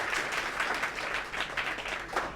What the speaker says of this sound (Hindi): एक बार सभी लोग ताली इसके लिए बजाइए